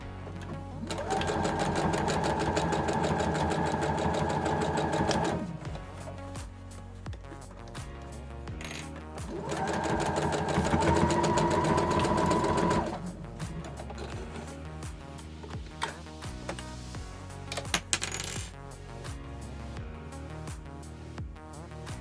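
A sewing machine stitches a seam about an eighth of an inch from the edge of a fabric mixing bowl cover with elastic: two long bursts of rapid, steady mechanical whirring separated by pauses, then a few clicks near the end.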